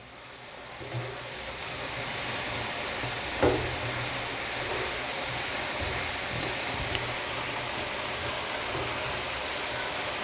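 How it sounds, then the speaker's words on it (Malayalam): Batter-coated potatoes for Aloo 65 deep-frying in hot oil, a steady, dense sizzle holding evenly throughout with a few brief clinks, no voices. "നമ്മൾ ഈ ചേർത്ത് കൊടുത്ത ഈ മാവ് നന്നായിട്ടൊന്ന് ഫ്രൈ ആയി കിട്ടിയാൽ മാത്രം മതിയാവും"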